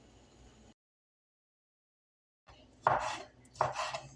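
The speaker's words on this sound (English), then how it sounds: "what I'm getting ready to chop up next. Ham." End pieces of ham chopped with a knife in a home kitchen. After low background noise and a silent gap, two firm, close knife strikes land about a second apart.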